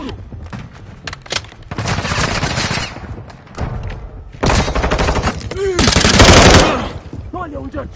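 Call of Duty gunfire: bursts of rapid automatic shots and single cracks, loud and close, with a long sustained volley near the end and voices calling out between bursts.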